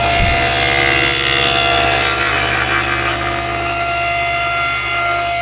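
A saw cutting through a wooden box to take off its lid on a nesting box jig, a loud, continuous rasping cut close by with a strong low motor hum.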